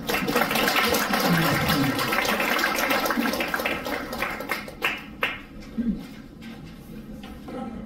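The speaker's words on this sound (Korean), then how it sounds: "우리 주인공께 다시 한번 큰 박수 주십시오" Audience applause at a Korean ceremony honoring a guest, a dense wash of clapping that thins into scattered individual claps toward the end.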